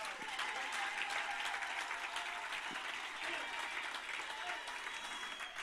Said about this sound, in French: Donnons une acclamation au Seigneur.